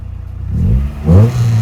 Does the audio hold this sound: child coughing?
no